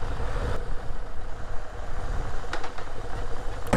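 A Moto Guzzi V7 motorcycle engine gives a steady, low, throaty rumble at moderate volume, running continuously with no one speaking.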